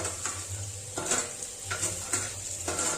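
Okra masala with fried prawns and onion stir-fried in a pan: steady sizzling with repeated scraping strokes of a spatula roughly every half second, close and moderately loud.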